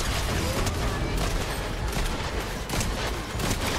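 Rapid, continuous weapon fire in the game Fortnite, loud and dense with steady bursts throughout and no talking.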